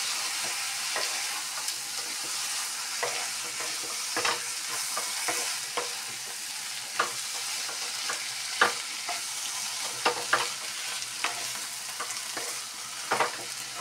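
Raw taro paste frying in a pan for a crab and taro curry, with a continuous hiss of sizzling oil and repeated scraping strokes of a spatula stirring it.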